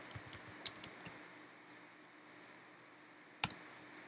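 Keys clack on a computer keyboard in a quiet room, a few quick soft clicks in a short burst, then a long pause and one final louder keystroke.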